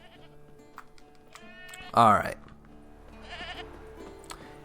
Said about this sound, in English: Here we have the goat.